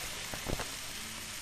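Eggs fry and set in a hot pan, a soft continuous sizzle with a brief louder crackle near the middle, heard alone at close range.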